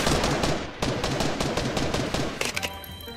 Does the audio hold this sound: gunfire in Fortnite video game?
yes